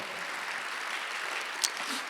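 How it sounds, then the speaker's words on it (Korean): Church congregation clapping during a Sunday worship sermon, a steady dense wash of applause, fairly distant and even, lasting a couple of seconds. "믿는 사람 박수주세요"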